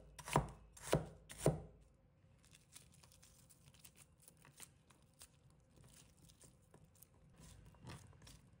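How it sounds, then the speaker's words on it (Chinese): Half an onion is cut into even strips with a knife on a board: three sharp, loud chops up front, then a quieter run of lighter, quick taps, with no voices. "取半颗洋葱，切成粗细均匀的丝状"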